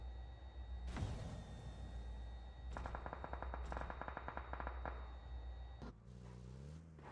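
Gunfire from PUBG Mobile erupts in sharp single shots and rapid automatic bursts, fairly close, followed by a vehicle engine revving near the end, with no talk.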